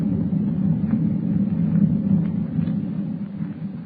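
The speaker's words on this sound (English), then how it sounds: "With thunder rolling across the dark ocean like a warning of impending doom, Clark Kent watches the minutes slip by" Low thunder rolls continuously as a radio drama sound effect, a deep steady rumble with no distinct cracks, moderately loud and alone throughout.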